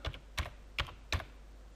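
Typing on a computer keyboard while entering a function name in Excel: four distinct, evenly spaced key clicks, close and crisp, with no talking.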